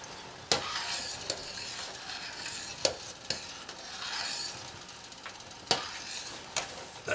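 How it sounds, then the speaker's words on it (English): Redbud jelly heats in a pot as it starts to boil, a bubbling hiss with periodic sharp clicks and knocks from a utensil against the pot, close by and without speech. "Turn the heat down, it's starting to boil."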